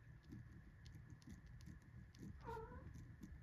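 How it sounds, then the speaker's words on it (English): A baby cat gives a single short meow indoors, faint and brief, amid soft rustling and patter. "oh, baby cat."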